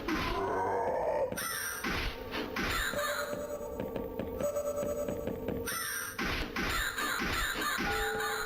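Crows caw harshly and repeatedly over a dense layer of synthetic game sound and pulsing thuds in a horror video game, loud and continuous with no speech.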